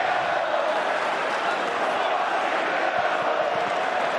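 Football stadium crowd at an XFL North Division Championship game between the Seattle Sea Dragons and DC Defenders, a steady, dense roar of cheering and shouting from a large crowd throughout.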